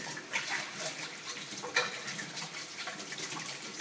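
Juicer parts are rinsed by hand under a running tap, giving a steady wash of water with irregular splashes and clatters as the pieces are turned in the stream.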